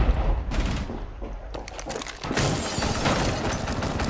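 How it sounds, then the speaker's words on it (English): A frag grenade goes off in Rainbow Six Siege, a sharp blast with a breaking, shattering crack around two seconds in, followed by a dense wash of rubble and gunfire-like noise. "Tossing frag."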